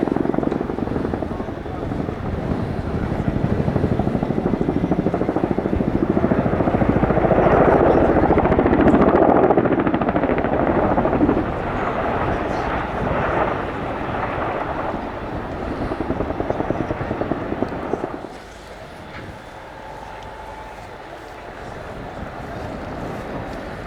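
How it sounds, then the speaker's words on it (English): A Royal Air Force Chinook at an air show display, its large twin rotor blades beating out a loud, continuous low throbbing roar that swells and then drops away as the helicopter departs, with crowd and commentary faintly underneath. "those 30-foot blades beating the air into submission should make a nice bit of noise that makes a change to jet noise"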